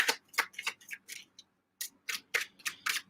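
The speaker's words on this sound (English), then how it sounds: "So I'm just shuffling for us real quick." Tarot cards being shuffled by hand, a close series of quick crisp riffling snaps and flicks with a short pause in the middle.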